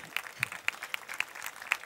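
Sparse applause after the winner, Aero Trem, is announced at the Gran Premio Latinoamericano horse race, a handful of distinct quiet claps in a loose, uneven rhythm with no talk.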